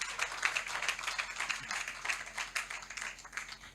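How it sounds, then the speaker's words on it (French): A church congregation at the Espoir des Nations ministry applauds for the Lord Jesus Christ, giving dense, steady rapid clapping from many hands that sounds somewhat distant and fairly soft, with no voices over it. "Acclame pour le Seigneur Jésus-Christ"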